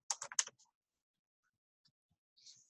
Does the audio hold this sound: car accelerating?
no